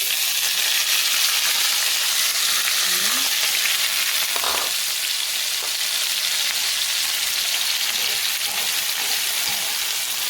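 Vegetables and seasoning sauteing in hot oil in a pan for ackee and saltfish, a steady broadband sizzle that runs the whole time, with a few faint scrapes and clinks underneath and no talking.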